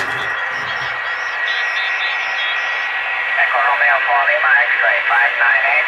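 Amateur radio contest station on about 20 metres, tuned in on a 1960s Trio 9R-59D valve receiver at full volume. Distorted, hissy sideband voice warbles through steady static and a whining tone.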